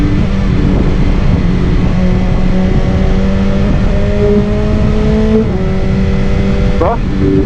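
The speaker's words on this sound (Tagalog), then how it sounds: "Sa ngayon kasi, nag-enjoy pa tayo sa maingay na motor." A BMW S1000XR motorcycle engine drones loud and steady under riding noise, its pitch rising and shifting in a few sweeps as the revs change, with a quick rev flare near the end.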